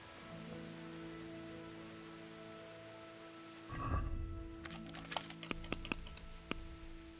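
Rain in the medieval video game Kingdom Come: Deliverance patters softly under faint musical tones, followed by a muffled thump and a series of sharp clicks and taps, all fairly quiet.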